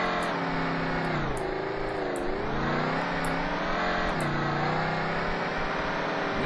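A van's engine revs in the Rigs of Rods driving game, a loud, continuous drone whose pitch sags and climbs repeatedly as the throttle changes, with no talk over it.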